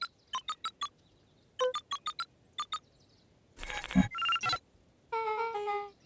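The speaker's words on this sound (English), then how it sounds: "Luca cracked his knuckles and entered the letters into the keypad." Keypad in the game Beacon Pines entering a password: clusters of short electronic beeps tap out in quick runs, followed by chiming confirmation tones and a rising musical jingle, clean and close.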